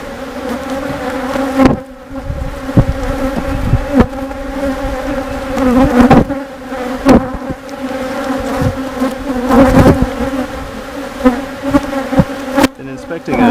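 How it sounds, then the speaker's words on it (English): Honeybees swarm around open hives during a morning hive inspection, a dense, continuous buzzing close to the recorder that swells and dips as bees fly past, with occasional sharp knocks and handling noises. "Inspecting a few of the hives this morning, which is why there's so many bees flying."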